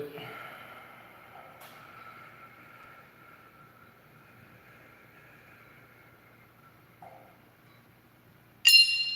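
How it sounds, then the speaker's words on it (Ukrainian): A long forceful exhale during a breathing exercise, heard as a strong breathy rush up close that gradually fades over several seconds, then a short pause and an abrupt louder noise at the end. "Видих."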